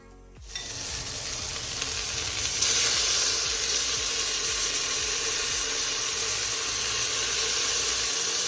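Pork for a Haitian legume stew sears in a pot, a loud, steady sizzle that swells up after a quiet start and holds close and constant.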